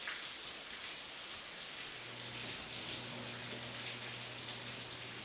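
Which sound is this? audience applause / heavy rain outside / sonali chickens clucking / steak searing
heavy rain outside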